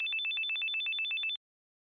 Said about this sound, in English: The only thing that broke her focus was her phone ringing.